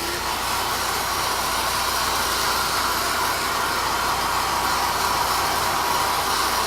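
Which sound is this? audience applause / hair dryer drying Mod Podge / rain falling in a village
hair dryer drying Mod Podge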